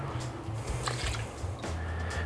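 Optimum No Rinse car wash concentrate poured into a bucket of water, a steady close trickle and slosh with faint dripping over a low background hum, no talk.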